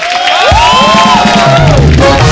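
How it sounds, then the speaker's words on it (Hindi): A studio audience at a comedy talk show cheers and applauds loudly and steadily, with whoops and shouts rising over the crowd and continuous clapping throughout. "हमारे शो को अवार्ड मिलेला है।"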